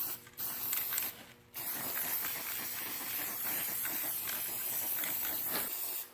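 Aerosol spray paint hisses onto steel Civil War-style body armor plates in bursts, a close, steady sputtering spray with two brief pauses between passes.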